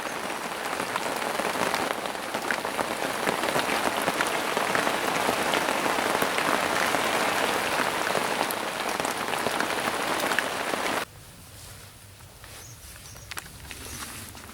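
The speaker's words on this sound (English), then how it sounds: "it's going to start raining now." Steady rain pattering on a surface, loud and continuous, then abruptly dropping to a quieter, sparser patter near the end.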